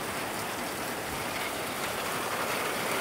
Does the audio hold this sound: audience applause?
no